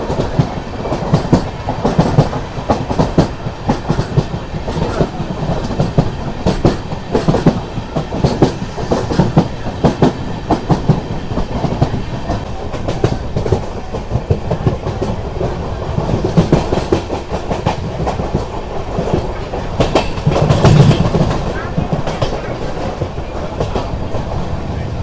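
Passenger train on the Tirupati to Coimbatore route rolling steadily on rails, a continuous loud rumble with rhythmic clickety-clack of wheels over joints, heard from on board for the whole stretch with no talk.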